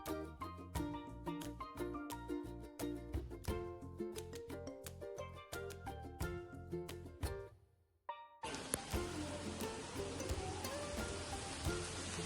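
Rain near a temple parking area sets in as a steady, dense hiss after several seconds of music, continuing evenly to the end.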